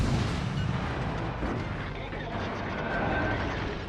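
A destroyer in World of Warships Legends fires high-explosive shells, heard as heavy booming gun blasts over a rumbling battle backdrop, with someone talking over it.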